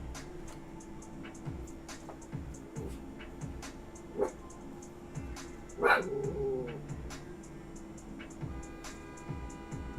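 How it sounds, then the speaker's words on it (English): Hermes the dog gives a couple of faint, short barks and yips indoors, spaced seconds apart over a low steady hum, with no talking. "No barking, Hermes."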